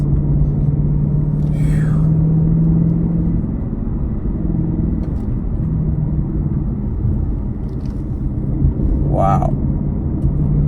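A 2020 Ford Shelby GT500 cruising winding Northern California roads, heard from inside the cabin as a steady, loud low rumble of engine and tires, with a couple of brief exclamations from a voice.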